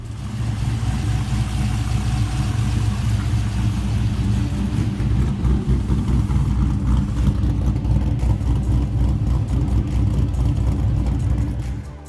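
A car engine fitted with a VCM Performance camshaft runs loud and close for the whole stretch, a steady, rumbling idle with slight surges and no talking.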